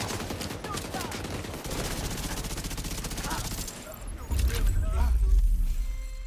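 Submachine gun fire in the shooter game The Division 2: sustained rapid bursts of automatic gunfire with heavy low thumps and rattling, loud and close, under and between game sound with a voice talking.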